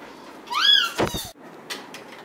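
A cat meows once with a rising, stretched call, followed by a brief thud or rustle and faint room noise; near and fairly clear, with no talk over it.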